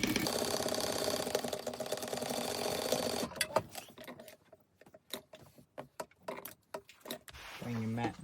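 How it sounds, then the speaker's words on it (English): A sewing machine runs in a fast, dense whir while stitching fabric pieces for a mug rug coaster, then stops after about three seconds, leaving someone talking over a few small handling clicks. "I'm going to sew that at 1/4 inch"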